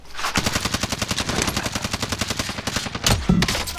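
Sustained automatic gunfire from a Call of Duty Warzone match in 1984 Verdansk, a rapid machine-gun burst of closely spaced shots that runs loud and unbroken nearly the whole time, with a heavier blast near the end.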